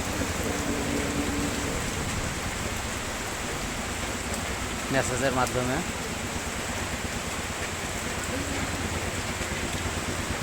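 Steady, dense rain hisses throughout at Sarojganj Bazar, Chuadanga, Bangladesh, with a brief warbling tone rising near the middle and a voice speaking faintly under the downpour.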